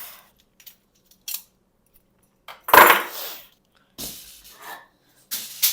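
Scissors cut through red knitting yarn while finishing a Christmas sock: a few quiet, sparse snips and small handling clicks, with one sharper cut in the middle and no talking.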